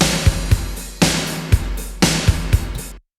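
Soloed 80s-style gated drums from an Ergotone Arena Rock kit: loud, punchy snare hits with abruptly cut-off reverb tails alternate with kick drum beats in a steady rock pattern, then stop.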